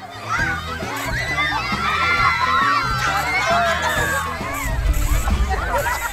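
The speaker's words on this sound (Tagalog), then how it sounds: "nababasag ng mga sigawan." A group of children in Barangay Alegria, Antique, shriek and yell excitedly while sliding down a hill on dried coconut fronds, their overlapping voices close and lively over steady background music.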